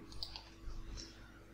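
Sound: mouse click

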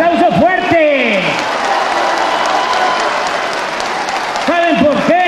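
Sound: loud audience applause

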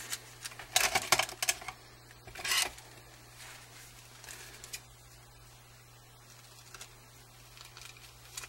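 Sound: cutting out tissue paper

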